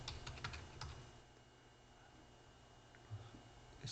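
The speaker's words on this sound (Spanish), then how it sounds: "escribimos la función buscar" Rapid keystrokes on a computer keyboard while a function name is typed into a spreadsheet, a short quick burst of clicks at the start, then a lull and a few more taps near the end.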